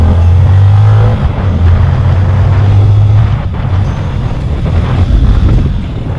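A Yamaha Sniper 155 motorcycle with about 50,000 km on the odometer revs hard toward 7,000 RPM in second gear, giving a loud, steady, close engine drone that swells and eases slightly, with wind buffeting throughout.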